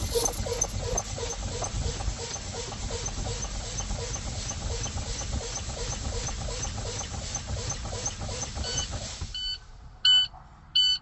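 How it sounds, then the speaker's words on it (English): A truck tractor's low air pressure warning alarm sounds as service brakes are fanned down to 60 psi, a steady rapid pulsing beep running continuously, near and loud, then stopping and giving way to a couple of short separate tones. "My warning alarms have come on at 60 psi, meaning that they are working properly."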